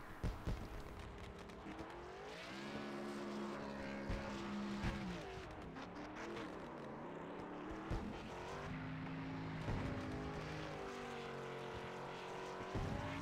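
Simulated race cars in iRacing howl around the Iowa oval, engine tones rising and falling as cars pass in a steady pack, the race ending with a burnout on the front straight, under faint commentary.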